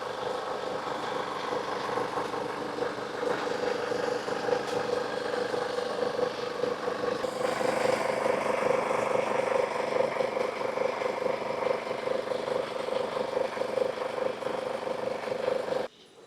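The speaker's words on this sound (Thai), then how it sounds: "สำหรับเสียงของเครื่องยนต์นะครับ ก็ถือว่าเสียงปกตินะครับ" The 2.8-litre diesel engine of an automatic Chevrolet Trailblazer SUV idles steadily with a constant low hum and faint rattle, unchanging for several seconds before cutting off abruptly at the end.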